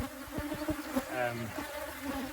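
Honeybees swarm around an opened hive during a split, thousands of them making a steady close buzz with a few brief knocks and handling sounds, and no voices.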